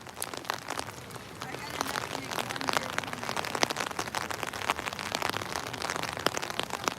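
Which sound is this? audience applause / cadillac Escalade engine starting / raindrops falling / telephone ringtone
raindrops falling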